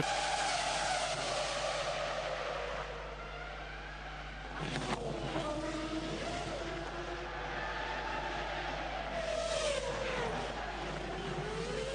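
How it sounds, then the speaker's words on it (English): Formula 1 car at Monaco losing its rear end, skidding with screeching tires and striking the barrier, a loud close tire squeal and engine roar with a sharp impact thud partway through. "the back end gets away, and then it just grabs the car, pulls it to the barrier, and that was a fairly substantial little thump"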